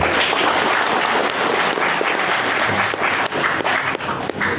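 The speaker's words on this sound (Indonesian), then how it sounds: "Kita kasih tepuk tangan dulu." Audience applause at a technical training session (bimtek) with provincial council members, a dense, loud wash of clapping filling the whole stretch with no talk over it, tapering slightly near the end.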